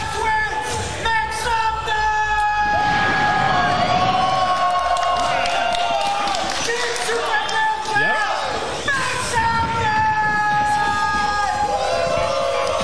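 Crowd noise fills a Super Smash Bros. Ultimate grand finals tournament hall, steady and loud throughout with whoops and cheering swelling in bursts, while commentators talk over it.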